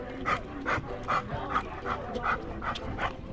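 A pet dog panting hard on a hot July day on an island, quick rhythmic breaths repeating about twice a second, close and moderately quiet.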